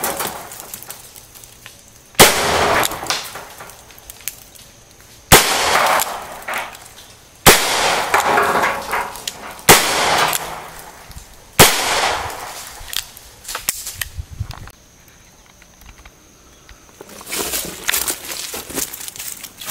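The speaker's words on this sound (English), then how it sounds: "we'll go ahead and shoot that for the end of the video here" Smith & Wesson Model 29 .44 Magnum revolver with an 8 3/8 inch barrel firing at a range target, six loud sharp shots spaced about two seconds apart, each followed by a brief ringing decay outdoors.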